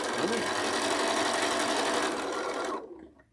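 A sewing machine runs at a steady fast whir, stitching quilt rows at a short stitch length, loud and close, then stops abruptly near the end.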